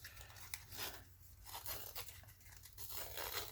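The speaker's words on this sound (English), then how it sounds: "If I can, I'm gonna rip the whole thing here." Paper is ripped by hand to distress a craft piece, a quiet run of dry tearing and crinkling sounds close by.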